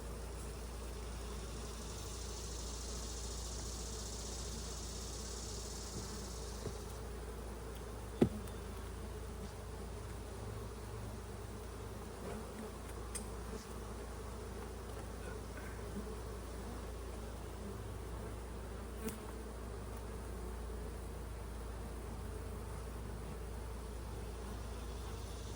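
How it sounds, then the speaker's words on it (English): Honey bees buzz around the front of a beehive in a continuous, faint, high drone, with a low steady hum underneath and the odd soft knock. "there's a bunch of bees out front"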